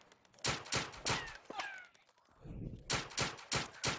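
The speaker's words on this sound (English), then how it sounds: "I'm gonna get it my trusty 1911. Jeez. That's gonna kind of blind fire." A 1911 pistol blind firing in a VR shooter game, a string of sharp, loud shots in two bursts with a short pause between, spent casings tinkling faintly in the gap.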